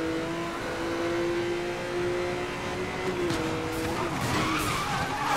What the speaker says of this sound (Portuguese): Você começa a virar, o carro já começa a querer fazer um driftzinho